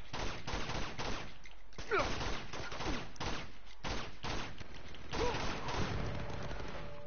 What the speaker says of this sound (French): Oula, grosse mitraillette!